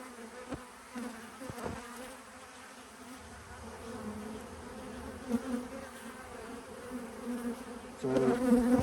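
A honey bee colony drones steadily during an open hive inspection, a close, continuous buzz with brief louder swells as bees pass near, and a slight rise toward the end.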